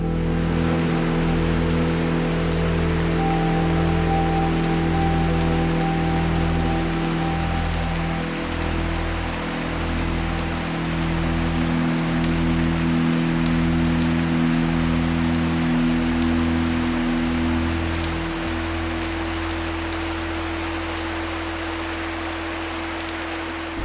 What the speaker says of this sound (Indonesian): Itu kan pas hujan deras juga itu.